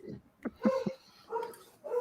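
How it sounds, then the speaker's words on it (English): A dog barks several times in short, sharp bursts, close and fairly loud, with brief whimpery yips between the barks. "Sorry, dog's barking."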